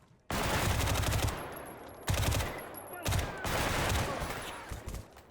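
Rapid bursts of gunfire in the video game STALKER GAMMA, loud and close, with a sustained volley followed by separate clusters of shots and short pauses between them.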